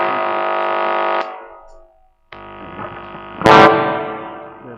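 Plywood SG electric guitar played through distortion: a sustained distorted chord that cuts off, a short silence, then another buzzing chord with a sharp loud strike that rings out.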